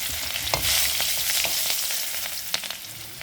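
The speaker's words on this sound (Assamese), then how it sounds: "কোপ্তা ভজা তেলখিনিতে অলপকেইটা দি দিছোঁ গোটা জিৰা ফোৰণ, 2টা শুকান জলকীয়া, সৰু সৰুকৈ কাটি লোৱা এটা পিঁয়াজ দি দিছোঁ ফোৰণ" Whole cumin, two dried red chilies and finely chopped onion frying in leftover kofta oil, a close, bright sizzle with sharp spits and occasional stirring clatters.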